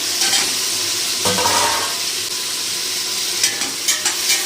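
Chopped tomatoes and green chilies fry in hot oil for mutton biryani, a steady loud sizzle broken by a few sharp stirring scrapes and clinks of a spoon against the pan.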